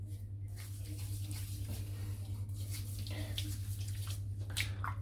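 Water splashing and trickling as a head is wetted before shaving, in a bathroom with a steady low hum underneath; a continuous wash of close, moderate splashes with no talking.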